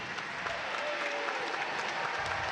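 Crowd applause fills a basketball arena during a Westchester game, a steady, dense wash of clapping and cheering that stays loud and even throughout, with no speech over it.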